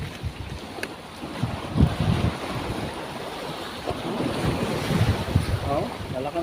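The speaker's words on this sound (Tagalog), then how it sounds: "Ang lalaki ng alon eh." Big ocean waves and gusting wind around a small fishing boat loaded with a net at sea, a steady roaring wash with surges of surf and heavy wind buffeting the microphone throughout.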